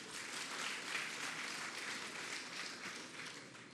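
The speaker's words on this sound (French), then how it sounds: "On applaudit les blessés." A crowd gathered in Abidjan for Emmanuel Macron's visit applauds in a steady, distant wash of clapping that fades slightly toward the end.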